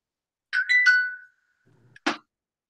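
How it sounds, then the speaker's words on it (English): A mobile phone ringtone plays a short bright chiming melody, followed by a brief gap and a further quick tone burst, clear and isolated against near silence. "I'm gonna mute my phone."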